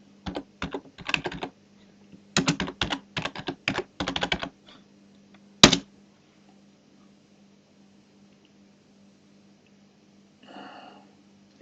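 A computer keyboard is typed on in two quick bursts of close, crisp key clicks, followed by one sharp louder tap and then near silence with a faint rustle toward the end.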